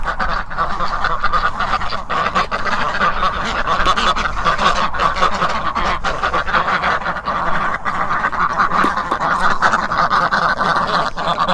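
Aylesbury ducks quack in a steady, busy chorus close by, several birds calling over one another continuously with no pauses and no talk.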